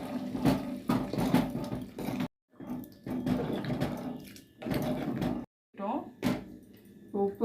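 Tamarind water pours into a simmering green turkey berry curry, a splashy, watery gush broken by short pauses, heard under someone talking throughout.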